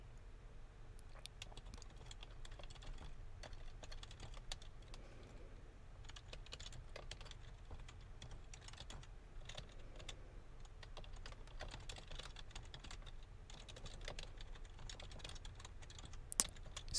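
Fast, continuous clicks of typing on a computer keyboard in an office setting, close and quiet, with no talk throughout.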